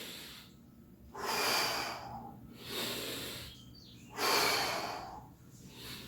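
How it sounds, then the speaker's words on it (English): A person doing a core workout breathes heavily, with three loud, rhythmic exhales about every one and a half seconds and quieter inhales between, close and breathy. "Inhaling on one side, big exhale on the other."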